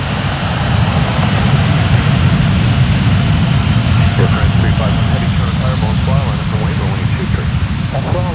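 A Boeing 777 jet at Toronto Pearson airport gives a loud, steady engine roar with deep rumble and broad hiss, while a voice talks intermittently over the noise.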